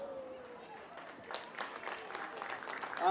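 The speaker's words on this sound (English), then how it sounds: "Firstly, we applaud the referees." Applause rises for the referees after an under-16 girls' grand final between Hills District and Mascot, scattered clapping building from the middle onward amid crowd noise and nearby voices.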